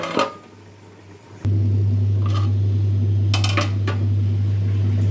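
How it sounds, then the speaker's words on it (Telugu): A metal lid clanks onto a cooking pot of fish curry, one sharp clatter followed by a loud, steady stove hum and a few small metallic rattles. "ఒక సెకండ్ అయితే మూత పెట్టి ఆపేస్తాను"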